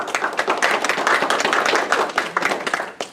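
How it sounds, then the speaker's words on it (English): A small group at a school board of education meeting claps for a student, producing distinct, uneven hand claps nearby that pulse loosely for a few seconds with no voices over them. "how about a nice round of applause for Michael Solomon"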